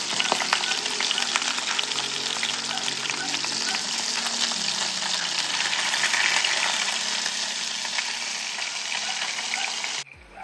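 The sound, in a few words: beef burger patty frying in pan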